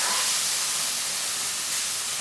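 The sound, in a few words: chicken frying in a frying pan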